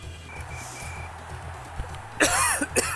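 A person coughs in a short harsh burst near the end, loud and close, after a stretch of quiet background hum.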